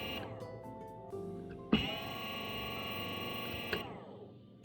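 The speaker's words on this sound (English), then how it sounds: "This is how the grinder sounds." A Starseeker AK74 electric coffee grinder runs with a steady whirring motor drone, preceded by a few clicks and ending with a sharp click, fairly quiet and heard close with no talking.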